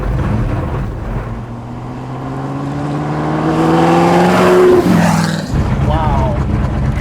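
A lightweight Ford GT40 engine revving hard under throttle, rising to a loud, raw roar, then cutting off sharply before settling back, close up, with someone talking over it.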